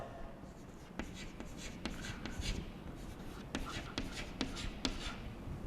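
A pen writes on paper while recording an accounting journal entry, with scratchy strokes and sharp taps of the tip spaced irregularly across the page, fairly quiet and close, over a faint room background.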